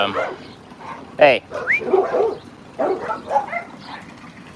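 Neighbors' dogs bark and yip outdoors in a few scattered bursts, one sharp and loud, while a person talks over them.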